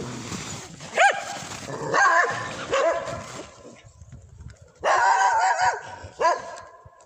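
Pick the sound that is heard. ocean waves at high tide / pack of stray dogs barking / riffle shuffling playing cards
pack of stray dogs barking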